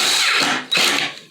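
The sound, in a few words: power drill driving a screw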